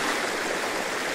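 A river stream flows with a steady, rushing burble of water that sounds close and even, with no voices or other sounds over it.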